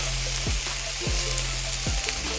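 Melted butter sizzles steadily in a hot pan as a burger bun is brushed with a small spatula, a close, continuous frying hiss with a few light scraping strokes and no talking.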